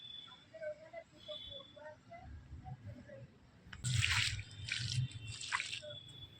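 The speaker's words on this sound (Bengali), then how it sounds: "ভালো করে জলটা দিয়ে দেবো এক্সট্রা জলটা কিন্তু পাস হয়ে যাবে" Water drips and trickles as newly planted garden plants are watered and the excess drains away, with several louder splashing bursts near the end over faint background sound.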